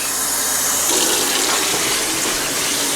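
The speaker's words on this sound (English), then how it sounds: "I'll just take the water from the sink" Tap water runs from a kitchen faucet into the sink while vegetable soup is being made, a continuous rushing splash that stays close and loud throughout with no speech.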